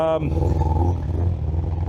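BMW M1000 RR motorcycle with a full titanium Arrow exhaust system at cold start, a loud, steady, deep idle rumble close by after a brief rising note at the start.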